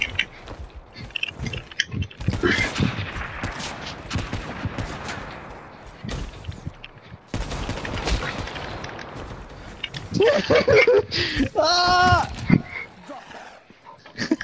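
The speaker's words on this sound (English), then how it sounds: "I shot one burst, but it killed them" Gunfire in Call of Duty Black Ops III, sharp rapid bursts scattered across the stretch with mechanical clatter, mixed under players talking over voice chat.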